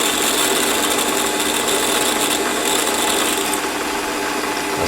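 Warco metal lathe running at about 850 rpm while drilling into metal, a steady dense whir and grind that stays loud and close throughout, with no talking.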